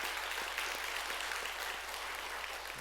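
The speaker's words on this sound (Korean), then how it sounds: "이은하 선교사님 잠깐 일어나시면 수고 많이 하셨다고 박수로 같이 한번" Steady crowd applause fills a church gathering in welcome of a missionary's wife, a dense even patter of many hands sustained throughout without voices.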